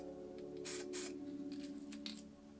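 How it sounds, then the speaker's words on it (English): An MTN Hardcore spray paint can hisses out in short bursts, two strong sprays close together then several lighter ones, near and clear over a steady background hum. "do spray it."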